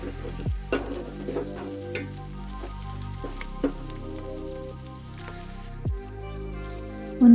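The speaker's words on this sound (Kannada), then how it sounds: "ಇವಾಗ ಇದನ್ನು ಕೂಡ ಎಣ್ಣೆಲೆ ಫ್ರೈ ಮಾಡ್ಕೊಬೇಕು" Green chillies frying in hot oil in a pan while making dill (sabsige) pulao, giving a steady close sizzle broken by a few sharp scraping stirs and clinks, with no talking.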